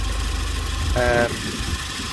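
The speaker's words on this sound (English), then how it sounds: "that causes the engine to step up a little bit in the revs" A Volvo 940 engine idles with a steady low rumble, then its revs briefly step up with a brief, higher-pitched whining tone before settling back to the even idle.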